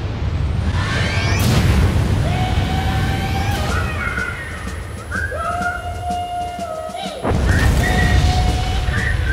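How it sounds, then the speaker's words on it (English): ICBM nukes detonating across cities in the game Spore: loud rumbling booms and crashing blasts with whistling, tonal sweeps rising and falling, a brief dip, then another heavy surge of explosions. "I just nuked everyone."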